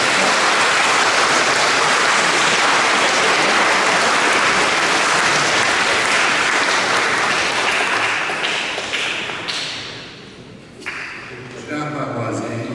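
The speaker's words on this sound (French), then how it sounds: "On peut les applaudir, hein?" A parish congregation at a French Catholic mass claps loudly and densely in a dense, rain-like wash that tapers off near the end, with a few voices surfacing.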